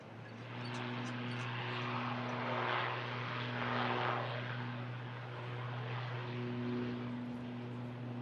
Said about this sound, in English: Aer Lingus on the way out to Dublin.